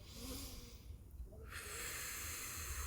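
A slow, deep breath drawn in through the nose during a calming anxiety-relief breathing exercise, a soft steady airy hiss close to the microphone with no talk.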